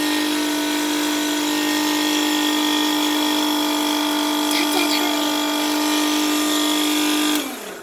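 A mini lathe spins HO scale model train wheels for cleaning and polishing, giving a steady, close electric motor whine with a constant tonal hum that holds evenly before cutting off near the end.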